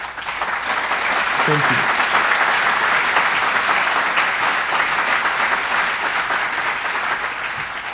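An audience at the ADL Austin Golden Door 2023 event gives steady, full applause that fills the hall, with a brief voice speaking over it.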